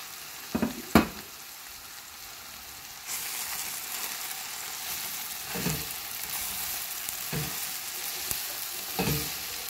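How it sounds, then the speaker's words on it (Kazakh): Bread and onion sizzle together in a frying pan, a steady close crackle that swells after a few early clanks, with periodic scraping knocks of a spoon stirring through it. "Жақсылап араластырамыз нан мен пиязды."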